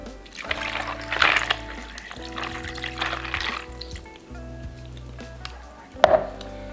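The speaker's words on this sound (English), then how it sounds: "So this is just a bowl of ice. And I'm gonna pour some water." Water poured into a bowl of ice cubes for an ice bath, splashing and trickling in a few short bursts beneath steady background music.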